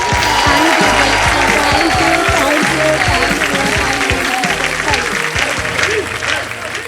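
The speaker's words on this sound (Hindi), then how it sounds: "आइए जोरदार तालियां इनके लिए" Loud, sustained audience applause fills the studio of the Wheel of Fortune game show for a contestant who has just won money, steady and dense for the full stretch with music underneath, easing slightly near the end.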